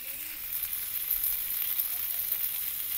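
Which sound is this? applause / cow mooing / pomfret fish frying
pomfret fish frying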